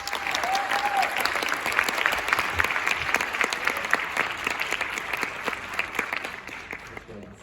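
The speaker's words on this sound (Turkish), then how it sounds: "Mehdi Can Uyaroğlu alkışlarınızla efendim." An audience at a theatre awards ceremony applauds a winner, a dense, steady roar of many hands clapping throughout that tapers slightly at the end.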